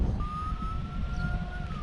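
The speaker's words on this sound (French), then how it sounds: "T'allumes les sirènes et vas-y." A police or fire emergency vehicle siren wails in a steady, high sustained tone, heard at moderate distance over wind and traffic noise, no talking.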